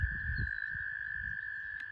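A frog croaks close by on a mossy bank beside bass water, low throaty pulses repeating over a steady high insect-like drone, with no talking.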